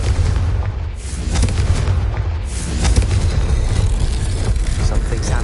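A Confringo fire spell explodes in the Hogwarts Legacy video game as a loud, booming blast with a rolling rumble, set among dense game sound effects.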